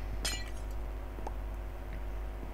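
Glass block shattering when punched in Minecraft, one bright quick crash near the start followed by a few faint clinks over a steady low hum.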